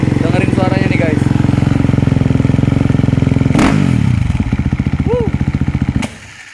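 A 2017 Husqvarna FE 350 motorcycle revs hard up close, a loud sustained roar that drops back to a choppy idle and then cuts off, with a short voice near the end.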